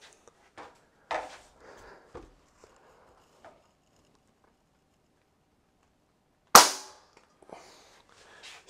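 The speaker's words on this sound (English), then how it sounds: "put your thumb behind it, pull back hard until it clicks" An air pellet gun being cocked makes sparse, quiet mechanical clicks and rattles, then one sharp, loud snap as the mechanism catches, followed by a few softer clicks.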